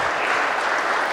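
Spectators at a handball semi-final keep applauding, a short, even wash of many hands clapping with no break.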